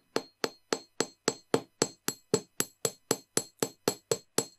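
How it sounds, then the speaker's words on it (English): Metal hammer strikes wire wrapped around a coin bead pendant in about sixteen sharp, evenly spaced taps, close and clear with no talking. "We'll hammer the other side the same."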